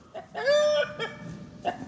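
Rooster or chicken on a homestead pasture by welded wire fencing, clucking agitatedly in a few short bursts with one longer drawn-out call, fairly close and alone.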